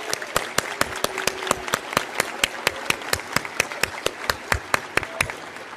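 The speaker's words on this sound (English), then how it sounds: "Let's give these kids another round of applause." Audience applause for students at a school board of education meeting: a steady patter of many hands clapping, with sharp individual claps standing out over a dense, sustained roar, loud and close throughout.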